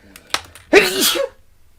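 A single loud, close human sneeze, preceded by a couple of short sharp inhales and followed by quiet.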